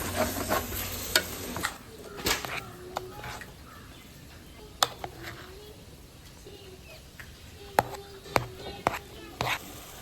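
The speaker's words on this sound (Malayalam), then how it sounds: "അപ്പോൾ നമുക്ക് ഇനി ഇതിലോട്ട് നമ്മളെ റൈസ് ഇട്ട് കൊടുക്കാം, എന്നിട്ട് ദമ്മിട്ട് വയ്ക്കാം" Rice is stirred and scraped into cooking chicken for Thalassery dum biryani, with soft sizzling, intermittent clinks and scrapes of a spoon against the pot, close by, while a person talks and faint birdsong sounds in the background.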